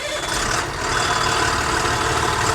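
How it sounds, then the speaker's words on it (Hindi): Truck engine running at a steady idle, a dense broadband rumble that holds loud and even throughout with no voices, heard during a diagnostic check of the vehicle. "अब गाड़ी को स्टार्ट करके देख लेंगे।"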